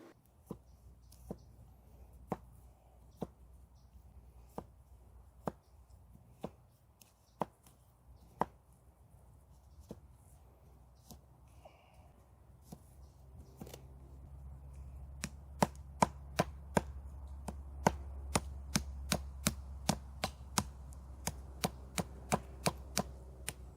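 Cold Steel SK-5 Recon Tanto knife chopping branches into plant stakes, a long series of sharp, close thwacks at an uneven pace, speeding up toward the end over a low background rumble.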